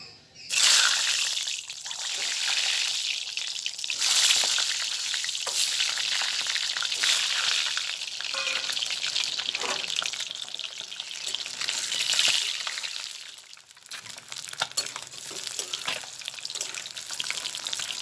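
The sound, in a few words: eggs frying in hot oil in a pan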